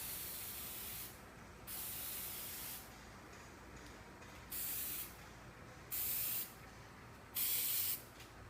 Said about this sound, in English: So I'm going to just spray this quickly,